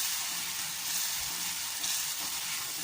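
Gravy with cashews and peanuts simmering and thickening in a pan, a continuous bubbling sizzle and hiss, steady and close, with no voices.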